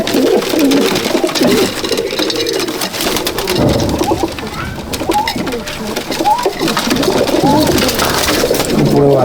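A loft full of adult Dowbaz pigeons in Malda district keeps up a thick, continuous cooing chorus, many birds overlapping at close range, with faint background voices now and then.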